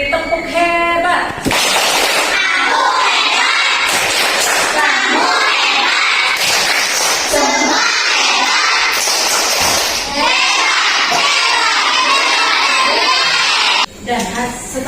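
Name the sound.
schoolchildren doing a 'tepuk hebat' clapping cheer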